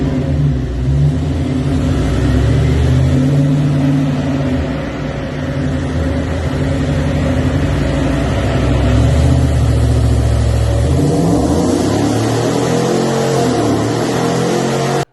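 An L83 V8-powered Land Rover Defender 90 revs hard on a dyno, a loud, continuous engine roar that holds steady throughout with a deep low-end rumble, rising briefly toward the end before cutting off abruptly.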